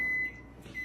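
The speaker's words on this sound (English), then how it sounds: "All you need is 5 seconds in the microwave and..." A microwave oven heats a small 25-calorie marshmallow, giving a soft, steady hum with a thin tone that fades briefly mid-way, heard faintly and alone.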